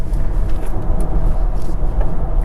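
A 2023 BMW i4 eDrive35 electric car driving through corners on a twisty road, with a steady low road and tyre rumble heard from inside the cabin, loud and constant.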